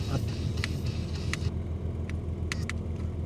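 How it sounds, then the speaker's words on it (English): A car engine drones steadily with low road rumble inside the cabin, with a few faint clicks and knocks over the hum. "tell you about it whilst I'm driving there"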